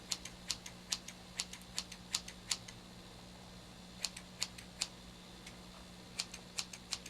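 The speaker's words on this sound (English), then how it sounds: "I'm just going to take my scissors" Scissors snip through clip-in hair extensions in a quick series of sharp, faint clicks, with brief pauses between bursts, close by in a quiet room.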